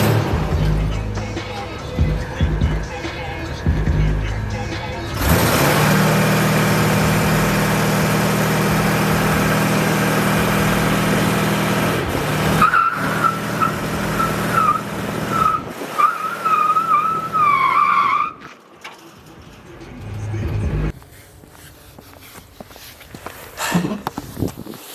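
A rusty Chevy Silverado with a 6.0 engine revs hard through a burnout, with roaring engine and tire screech rising and falling before easing off to idle and outdoor noise, with brief voices nearby.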